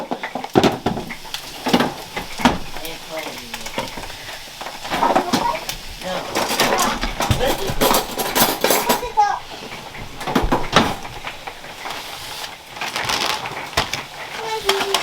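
Dishes clink and clatter in a home kitchen as a bowl is taken out while breakfast hash cooks, with a voice and other talk running over the scattered knocks.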